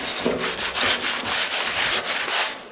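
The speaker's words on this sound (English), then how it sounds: "Give your radiator a proper good clean off." A radiator is scrubbed clean with sugar soap. Rapid, rhythmic rubbing strokes scrape back and forth steadily, close up and fairly loud, with no voices.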